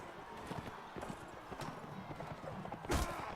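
Horse hooves clip-clop in a quick, uneven rhythm, with occasional snorts and a whinny, over a soft background murmur, in the video game Mount & Blade: Warband.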